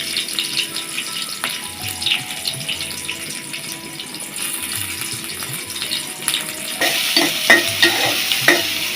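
Chopped onion fries in oil in a home kitchen pan, a continuous close sizzle broken by scraping stirs, with louder clattering strokes of the spatula near the end.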